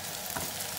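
Sliced zucchini drops into a hot pan already frying onions and carrots, giving a steady close sizzle with a brief swell of stirring and crackle, no voices.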